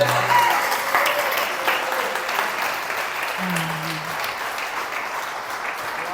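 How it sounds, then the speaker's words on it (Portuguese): A church congregation gives a round of applause to God during a sermon, many hands clapping in a steady, even wash, with faint voices and a few brief tones underneath. "Dê uma salva de palmas para Deus"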